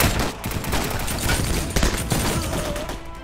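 Video game gunfire during a battle, a dense fusillade of rapid shots and bursts that stays loud and continuous throughout, with no clear talk over it.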